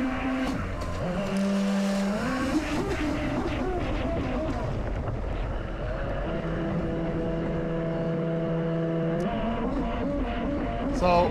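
A 3D-printed 8s RC jet boat runs on the water with a loud continuous high-pitched whine that rises and falls with throttle changes, heard up close with wind buffeting and someone talking over it.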